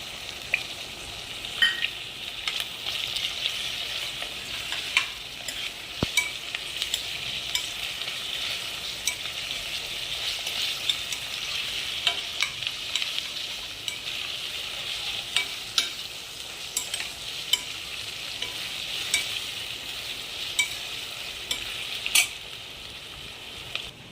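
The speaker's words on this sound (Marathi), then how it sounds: "आता त्याच्यात ही पेस्ट टाकते आलं लसणाची." Ginger-garlic paste sizzles and fries steadily in a pan for a home-made biryani, with occasional spoon scrapes and clinks while it is stirred; a continuous close hiss runs throughout and no one speaks.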